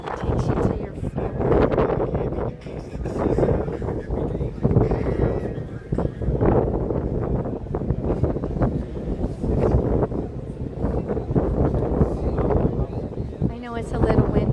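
Wind buffets the microphone on the open deck of a cruise ship sailing away from Miami, a steady rumbling gust that runs the whole time under constant close talking.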